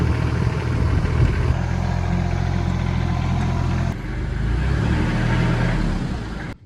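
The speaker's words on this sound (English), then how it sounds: "We're getting ready to move it with the tractor." A tractor engine drones steadily nearby while moving a heavy load with about 3,300 pounds of capacity, low rumbling tone shifting pitch partway through before cutting off at the end.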